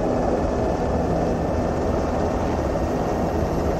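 A steady, loud engine drone fills the inside of a military aircraft in ArmA3, a constant broadband rumble with no breaks and no talking.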